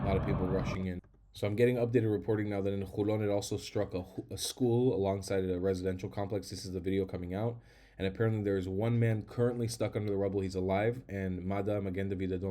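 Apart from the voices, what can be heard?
No everyday noises stand out.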